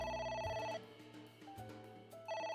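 A phone rings in the video game AI: The Somnium Files, an electronic ringtone playing clear, steady tonal bursts that break off briefly and resume, with no one talking.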